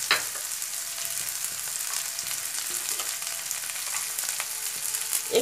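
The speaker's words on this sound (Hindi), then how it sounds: "हरी मिर्च को मुझे ज़्यादा पकाना नहीं है, बस इसे हल्का भून लेना है" Green chillies fry lightly in a pan with fennel powder for a Rajasthani chilli pickle, giving a steady close hiss and sizzle with occasional faint stirring scrapes.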